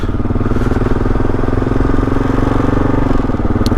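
A Kawasaki KLR dual-sport motorcycle with a Cogent rear shock rides a dirt loop, its single-cylinder engine thumping loudly and steadily at close range with a constant throbbing drone.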